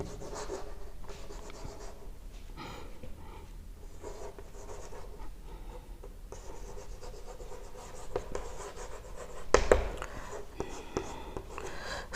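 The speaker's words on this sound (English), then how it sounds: "I will write some example for you." A marker or chalk scratches across a board as examples are written, in faint, irregular strokes under soft whispery speech and room noise.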